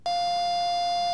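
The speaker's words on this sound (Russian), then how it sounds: "Возьмем динамик и подадим на него звук определенной частоты, создаваемый генератором." A loudspeaker driven by a signal generator gives a pure, steady electronic tone that starts abruptly and holds evenly for about a second, with nothing else heard.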